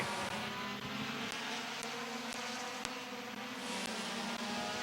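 Race cars at a speedway roar off at the start of a fall classic race, a distant, continuous engine drone with a few sharp clicks, heard faintly from afar.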